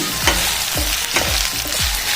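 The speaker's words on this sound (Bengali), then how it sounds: "আলুটা একটু ভেজে নিই" Potato fries in a pan for an ivy gourd (kudri) curry: a constant sizzle broken by four rhythmic scraping strokes of a spatula stirring, close and fairly loud, with no voices.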